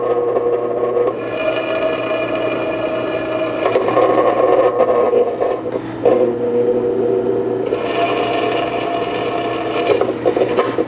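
A drill bit boring screw holes for a power supply build, a continuous whirring, grinding drone that dips briefly between holes and starts again, close and fairly loud with no speech.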